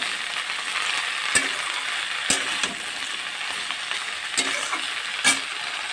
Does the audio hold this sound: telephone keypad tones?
no